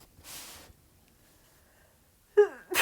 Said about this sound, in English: No, that was a silly sneeze.